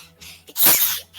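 A single sharp, loud sneeze bursts out close up, with a quick breath before it and no talking.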